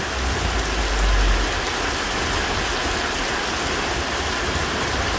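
Steady, dense rainfall hisses evenly throughout in Chalatenango, El Salvador, with a brief low rumble near the start and no voices.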